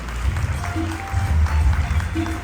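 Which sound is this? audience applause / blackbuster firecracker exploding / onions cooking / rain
audience applause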